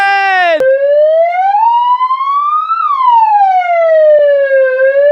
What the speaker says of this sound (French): Les gendarmes, avec la sirène.